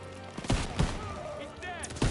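Gunfire in the World War II shooter game Call of Duty WW2, with several sharp loud shots at irregular intervals over constant battle noise, while people shout in the background.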